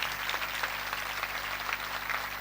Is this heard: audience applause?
yes